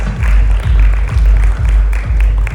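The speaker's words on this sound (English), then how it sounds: "A big round of applause, please, for Mr. Nair" Audience applause at the FICCI Frames event, a dense, loud burst of clapping from a seated crowd, sustained and rhythmic with a heavy low-end rumble.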